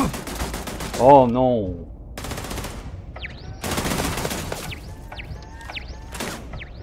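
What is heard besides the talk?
turret gunfire in Starfield video game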